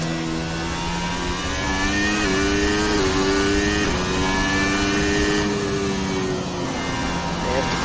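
A Renault F1 2020 mod car in Assetto Corsa drives the new Zandvoort layout, its high-pitched engine whining loudly and continuously and rising through gear changes, with someone talking over it.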